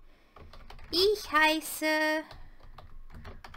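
Keys click on a Windows 11 computer keyboard set to a German layout, with light, uneven taps before and after a short stretch where a person speaks over them.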